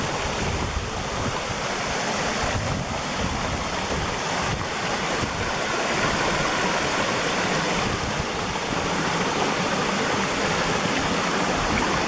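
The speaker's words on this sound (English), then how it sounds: "A small waterfall." A small waterfall in a wooded nature preserve glen gives a steady, broadband rush of falling water, constant and fairly close throughout, with a faint breeze and no talking.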